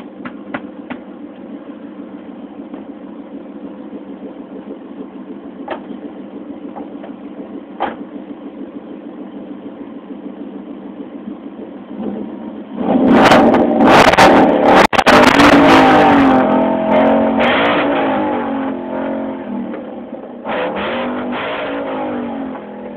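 A 2011 Ford Mustang GT Premium with a Corsa exhaust idles with a steady low rumble, then revs hard several times in loud, close bursts that rise and fall before settling back toward idle.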